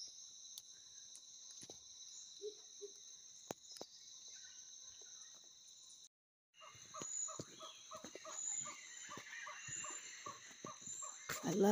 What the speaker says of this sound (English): I love all the bird and jungle noises.